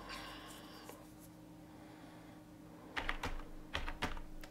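Keys clatter on a computer keyboard while code is written, with a faint steady hum at first and then bursts of close, crisp key presses in quick clusters.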